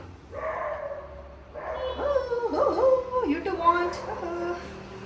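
A nearby dog gives loud, wavering whining yelps and barks in a few separate bursts, growing busier toward the end over faint background noise.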